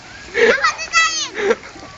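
A child splashes while swimming in water, with bursts of splashing mixed with an adult voice calling out encouragement close by.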